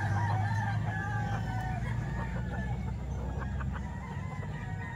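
Roosters crow and cluck among many gamefowl at a crowded market in Kalumpit, the calls layered over a constant low hum of the crowd and steady background noise.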